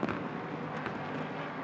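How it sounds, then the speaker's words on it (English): Fireworks at the 2021 Rolex 24 At Daytona endurance race: a muffled, rumbling crackle of distant bursts, with a couple of sharper pops near the start and in the middle, under steady background noise. "Was that the fireworks in the background?"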